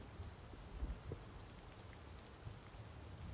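Rain in the WWI trench warfare video game Verdun falls as a soft, steady patter with faint low rumbles, quiet and continuous without speech.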